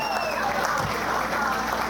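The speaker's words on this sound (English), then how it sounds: "How about a round of applause for Joe, father of the bride?" Wedding guests applaud during the toasts for the father of the bride, a steady, dense wash of clapping that fills the short moment with no break.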